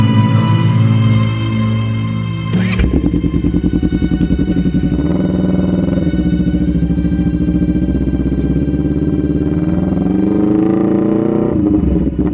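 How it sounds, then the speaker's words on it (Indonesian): A Honda CBR motorcycle engine runs loud and steady with strong rumbling harmonics, a surge near the three-second mark, then a sustained drone carrying three riders, rising slightly in pitch toward the end. "Kerasnya suara motor Honda CBR milik suamiku yang membawa kami bertiga"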